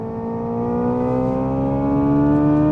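A Hyundai Ioniq 5 N electric car's simulated gearshift engine sound: a synthetic drone with steady harmonic tones rising gradually in pitch, like an accelerating motor, loud and continuous.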